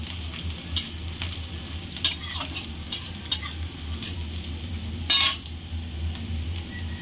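Onions fry until reddish-brown in a pan for a pointed gourd and prawn curry, giving a steady gentle sizzle broken by sharp spatula scrapes and metallic clinks as they are stirred, with no voices.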